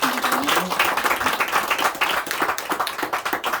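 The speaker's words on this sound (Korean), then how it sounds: "우리 하나님께 영광의 박수를 올려드리겠습니다" A church congregation at a Sunday morning worship service claps in applause, a dense, steady wash of many hands that carries evenly throughout with no voices standing out.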